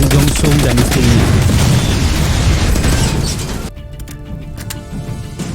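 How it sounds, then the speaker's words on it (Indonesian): Bursts of automatic rifle fire from a film chase across tall grassland, loud and dense rapid shots merging into a roar, then sparser cracks near the end, with talk over the top. "Myongsu mengejarnya dengan berondongan peluru senapan otomatis"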